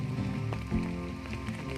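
Steady rain pattering on a surface nearby, a dense continuous wash with occasional louder drops.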